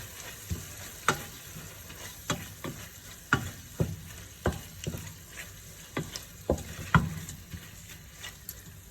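Hotdog pieces being stirred as they fry in a pan for baked spaghetti, with an ongoing low sizzle broken by about a dozen sharp scraping strokes at a steady, unhurried pace, close and fairly quiet, with no talking.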